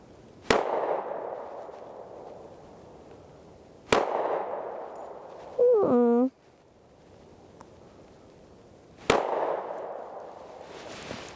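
Three loud, sharp gunshots from a Springfield Armory XDS 3.3 .45 ACP compact pistol ring out several seconds apart, each followed by a brief echo, with a short voice sounding between the second and third shots.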